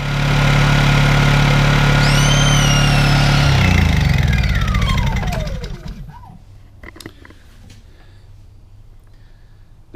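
A Honda EU2000i portable inverter generator runs steadily and loud near an RV trailer, its hum fading after about five seconds to a quieter, lower level.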